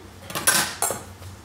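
A knife cutting into a poivrade artichoke, two short crisp slicing strokes close by, with faint clinks from the blade on the board.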